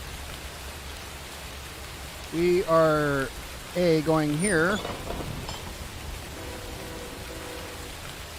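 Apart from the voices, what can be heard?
rain in a train simulator video game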